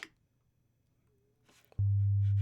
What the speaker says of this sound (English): we just have a sine wave oscillator